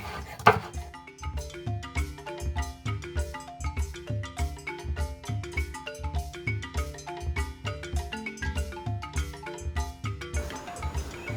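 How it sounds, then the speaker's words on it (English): A knife minces garlic on a cutting board with rapid, evenly spaced taps, a close, steady rhythmic chopping that runs without pause. "Go ahead and mince up our garlic."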